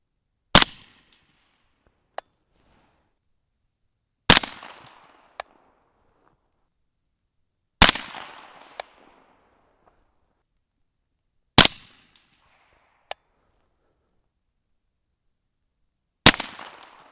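A 300 Blackout rifle firing 225gr Hornady BTHP Match subsonic rounds, five sharp loud reports spaced a few seconds apart, each followed by a brief echo and a fainter metallic ping of a steel target.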